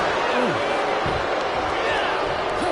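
In the WWE 2K26 wrestling video game, LA Knight lands a crossbody with a solid thud over a roaring arena crowd, scattered whoops rising, while a commentator talks throughout.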